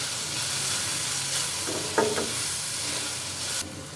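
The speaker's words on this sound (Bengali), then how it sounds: "হাই ফ্লেমে একটু ভালো করে আমি ভাজা করে নেব।" Chowmein vegetables and green chillies fry over a high flame, a steady broadband sizzle with a few scraping stirs near the middle and a slight drop in intensity toward the end.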